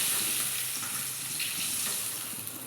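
Fish frying in oil for a Bengali dish, a steady close sizzle and crackle that holds evenly throughout with no talk.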